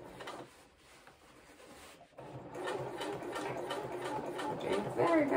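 A sewing machine stitching Closet Core Pietra shorts starts after a quiet pause, then whirs in a steady close run that grows louder toward the end, with faint speech in the background.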